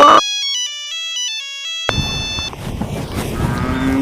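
A short electronic phone ringtone melody plays loudly and cleanly, then cuts off into muffled indoor background noise.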